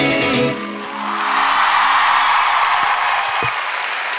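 After a pop song performance on a television talent show, a studio audience breaks into loud, steady applause that carries on through the clip, following the last sung notes.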